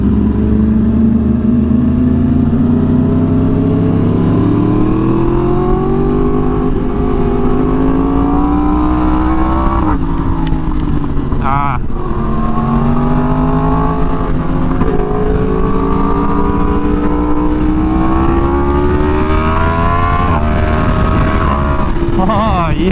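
Four Yamaha R1M sport motorcycles rev and pull away from a bike meet, their engines loud and close, rising and falling in pitch as they accelerate, with a rider's voice heard briefly over the noise.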